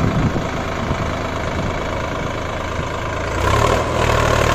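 A New Holland 3630 tractor engine runs steadily in third gear, a loud continuous diesel drone with a low rumble that swells slightly heavier near the end.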